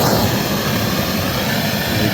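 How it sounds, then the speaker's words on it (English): An exhaust fan runs steadily in a garage during exhaust work on a 2005 Pontiac Vibe, a constant loud broadband roar with a low rumble that holds unchanged throughout. "got the exhaust fan on, sucking out that"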